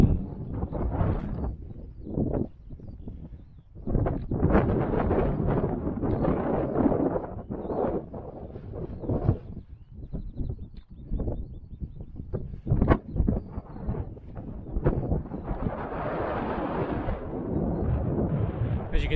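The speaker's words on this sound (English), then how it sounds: "it's got quite windy" Strong gusts of wind on a hilltop hike near Manshead Hill and Blackstone Edge buffet the microphone in loud, rumbling bursts that rise and fall for the whole stretch.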